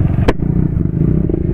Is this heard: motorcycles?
yes